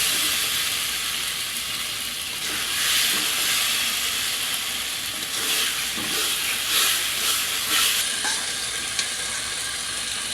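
Fried potatoes and pointed gourd cook in spice masala in a pan, giving a steady, close, bright sizzling hiss throughout with small crackles and stirring scrapes.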